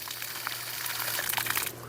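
Water gushes from a garden hose as a programmable UNNI hose timer on a backyard faucet switches on, a steady close rushing flow with a low hum underneath, no talking.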